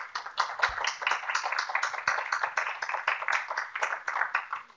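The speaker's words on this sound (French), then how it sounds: "Je pense qu'on peut l'applaudir pour" A room full of people applauding, steady dense clapping that carries on for several seconds, close and moderately loud.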